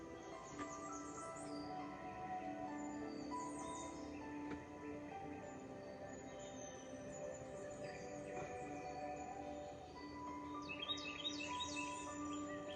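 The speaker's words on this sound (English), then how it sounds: "You can hear birds." Small birds chirp and sing faintly in the background of a quiet indoor space, with scattered tweets and a brief cluster of bright calls near the end.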